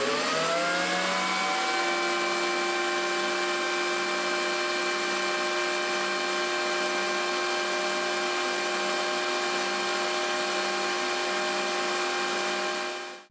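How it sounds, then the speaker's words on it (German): An IGM thickness planer with a straight-knife insert cutterhead runs at full speed, a loud, steady, high-pitched machine whine and hum that holds constant before cutting off abruptly at the end. "Nun probieren wir die zweite Maschine mit einer Wendeplattenwelle mit vertikalen Messern ohne Spirale aus."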